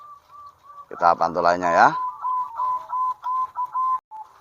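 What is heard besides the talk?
zebra dove (perkutut) cooing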